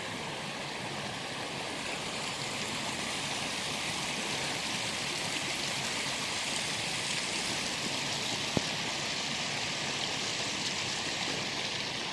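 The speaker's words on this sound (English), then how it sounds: "Naked Creek, right there." Naked Creek in Shenandoah National Park flows steadily on a mountainside, a loud, constant rushing of water with no pauses, heard close and alone.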